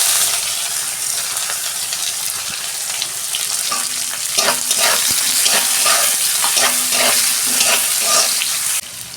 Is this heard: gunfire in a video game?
no